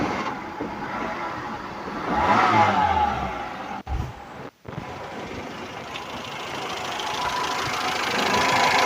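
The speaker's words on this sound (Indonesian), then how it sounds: "Dan sekarang kita coba nyalakan mesinnya" A 2004 Hyundai Atoz GLS with a 1000 cc engine starts up with a brief cranking burst, cuts out for a moment, then settles into a steady, slightly knocking idle close by.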